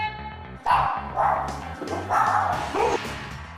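A dog with an excessive barking habit, being trained at home, lets out a run of close, loud barks and yips in an uneven rhythm, with faint voices in the background.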